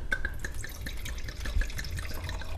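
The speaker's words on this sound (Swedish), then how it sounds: "då har vi alltså hällt upp lite vin" Wine poured into a glass in a home kitchen, a close, trickling stream of liquid with light dripping splashes running steadily for a few seconds.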